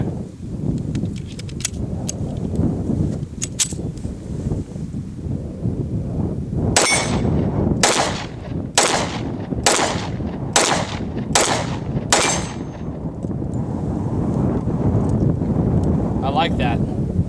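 A Ruger SR1911 Commander pistol fires a string of about seven sharp, loud shots at a steady pace outdoors, each with a ringing metallic crack, after some quiet handling noise and wind, with brief talk nearby.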